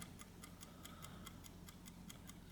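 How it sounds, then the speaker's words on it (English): An antique automaton clock with a cherub hammering on an anvil ticks softly and evenly, about five crisp ticks per second, close by in a quiet room. "You can see there's a tiny little angel, or a cherub, hammering away his arrow on an anvil."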